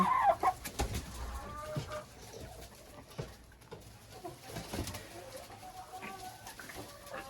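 Hens in a henhouse clucking and murmuring close by, with scattered soft calls and a few louder clucks over a quiet background, no voices.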